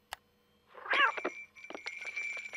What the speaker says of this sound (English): It's a cat video, Benson.